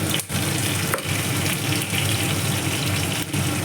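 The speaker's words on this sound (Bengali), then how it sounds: "পটলটা কিছুক্ষণ নাড়াচাড়া করে ভাজার পর" Sliced pointed gourd sizzles steadily in oil in a pan over a medium gas flame, with a few soft scrapes of stirring breaking the continuous hiss.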